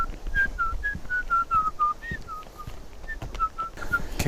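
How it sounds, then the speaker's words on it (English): A person whistles a wandering tune of short melodic notes while hiking through bear country, close and clear over rustling footsteps and outdoor noise. "So I've been whistling"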